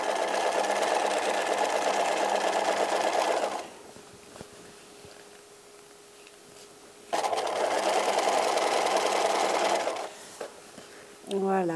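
A domestic sewing machine stitching fabric in steady, loud mechanical runs, with a burst of about three and a half seconds, a quiet pause, then a second run of about three seconds and a brief final burst.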